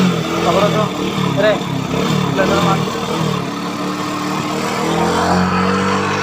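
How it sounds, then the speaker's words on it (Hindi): A Hero Splendor motorcycle engine with a white smoke problem idles and revs unevenly nearby after starting, while someone talks over it. "यहाँ पे देखें बाइक स्टार्ट हो चुका है"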